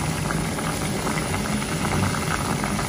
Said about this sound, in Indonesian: Kita tunggu sup tempoyak kita ni mendidih dulu.